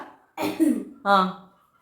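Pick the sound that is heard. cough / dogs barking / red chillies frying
cough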